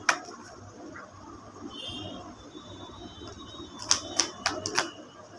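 Tarot cards are shuffled and drawn from a deck close up, giving a soft rustle followed by a quick series of sharp card snaps and flicks near the end.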